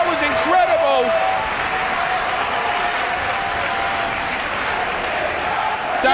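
A women's wrestling crowd at an EVE event cheering and applauding after a wrestler kicks out of a Death Valley bomb, a dense, sustained roar of clapping and shouts with a commentator's voice over it.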